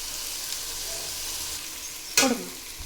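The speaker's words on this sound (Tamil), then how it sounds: "இந்த வெங்காயம் இந்த கலர் வதங்கள்லாம் பிரியாணியுடைய டேஸ்ட்டு மாறிடும்" Onions for biryani fry in a pan with a soft, steady sizzle, followed near the end by one brief, louder scrape of a stirring utensil.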